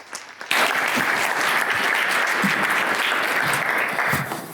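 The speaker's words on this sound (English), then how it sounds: "So let's have a round of applause for our final speaker." Applause from a conference audience for the final speaker breaks out abruptly and continues as a thick, even burst of clapping, close and loud, without talk.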